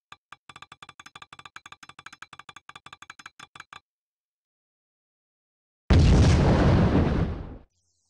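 A spider bomb in the video game 007 Everything or Nothing: a fast run of small skittering ticks, a brief silence, then one loud close blast that fades out over about two seconds.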